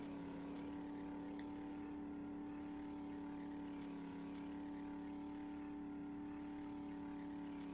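A vehicle drives off-road in the survival game 7 Days to Die, its engine a steady, droning hum that holds unchanged throughout, with no talk.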